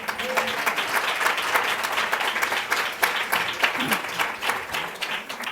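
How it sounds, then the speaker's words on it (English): Warm audience applause for Tina at a Women in the World event in Washington, D.C., steady clapping from a sizable crowd with distinct individual claps, a few voices audible underneath. "how about a round of applause for Tina?"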